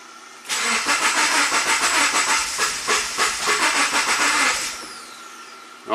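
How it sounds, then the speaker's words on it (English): A 2009 Subaru Forester with a crank-no-start fault cranks over for about four seconds, the starter churning in a fast, even rhythm without the engine catching, loud and close, then stopping. "I'm going to crank it over while watching some live data"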